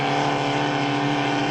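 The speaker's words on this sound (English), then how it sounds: "8 boats making their way out onto the race course for Heat 2B" Formula 2500 racing powerboats heading out onto the course at a Cambridge regatta, a loud steady engine drone with layered tones, continuous and close, no speech.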